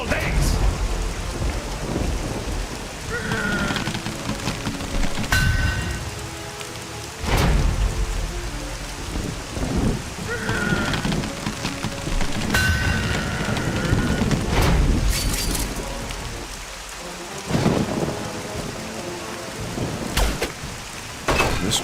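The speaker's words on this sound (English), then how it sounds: "Why did it have to rain today of all days?" Steady heavy rain pours in a battle scene from the video game The Cursed Crusade, broken by several loud thunder cracks and rumbles at intervals, with no talking.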